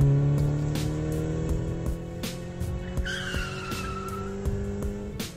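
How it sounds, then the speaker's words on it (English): Taxi driven at top speed through city streets in Mumbai, tires squealing and skidding in a long sustained screech over steady engine drone, moderately loud and close. "And Alia drives the taxi at top speed."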